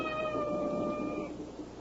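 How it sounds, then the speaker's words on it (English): A single drawn-out cat meow in a radio drama, a sustained tonal cry lasting over a second and fading at the end, heard alone and fairly close. "there goes that cat again."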